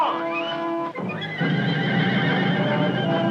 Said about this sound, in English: We'll hold the horses still!